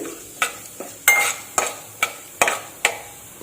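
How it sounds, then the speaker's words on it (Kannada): Urad dal fries in a pan for masala rice while a spoon stirs it, giving a series of sharp scraping clinks in a regular rhythm over a soft, steady sizzle. "ನೆಕ್ಸ್ಟ್ ಇದ್ರ ಜೊತೆಗೆ ಉದ್ದಿನಬೇಳೆ ಹಾಕ್ತಾ ಇದ್ದೀನಿ ಬೇಳೆ ಒಂದು ಸ್ವಲ್ಪ ಬ್ರೌನ್ ಕಲರ್ ಬರಲಿ"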